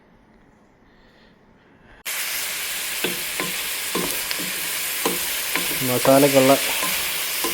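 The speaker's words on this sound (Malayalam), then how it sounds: "സവാളയൊക്കെ ഇട്ട് നല്ലപോലെ വഴണ്ട് വരണം" Sliced onions for chicken biryani hit a hot pan after two quiet seconds, bursting into a loud continuous sizzle with repeated scraping stirs and a short clattering flurry near the end; a voice is heard briefly.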